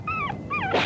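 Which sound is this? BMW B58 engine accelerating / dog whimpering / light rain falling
dog whimpering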